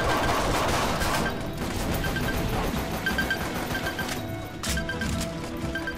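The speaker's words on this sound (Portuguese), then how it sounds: "Só granada pra todo lado aí." Grenades exploding one after another in the blocky shooter Pixel Gun World, a dense, loud wash of blasts and crackling gunfire that fills the whole stretch without pause.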